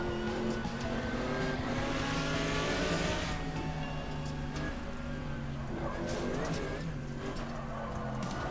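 Racing cars on the Hatzenbach section of a racing video game roar close by with steady high revving engines, shifting pitch as one car overtakes another, and faint tire noise mixed in.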